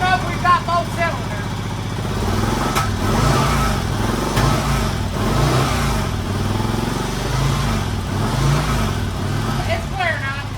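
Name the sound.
Victory motorcycle engine running rough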